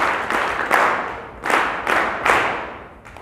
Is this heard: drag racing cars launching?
no